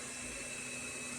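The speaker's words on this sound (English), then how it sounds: "the robot vacuum cleaner is just fired up" A robot vacuum cleaner running indoors gives a steady, faint motor whine and whirr with a constant hum, heard in the background without speech.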